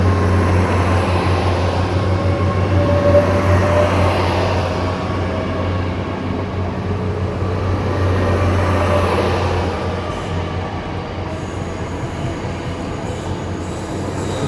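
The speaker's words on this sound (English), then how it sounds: "train now departing" A train pulls out of the station at Newton Abbot, Devon, bound for Penzance: a steady rolling rumble with a low engine drone and wheel noise that swells and fades as the carriages pass, with no talk over it.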